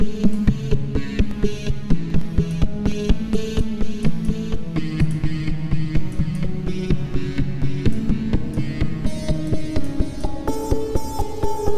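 A Serum synth patch built from imported audio, drenched in delay and reverb, plays a steady rhythmic pulsing sequence of tonal notes with echoing tails, loud and alone with no talking.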